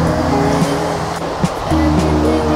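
Ocean surf on Daytona Beach, Florida rushes in a constant loud wash of breaking waves, with a low steady hum layered underneath.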